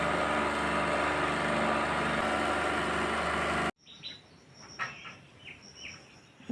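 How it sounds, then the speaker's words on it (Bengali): A loud, dense machine-like roar cuts off abruptly, and faint chirps of mother birds follow. The calls are small and scattered, near but soft, over a quiet background with no voices. "মা পাখিগুলো একবার করে আসছে"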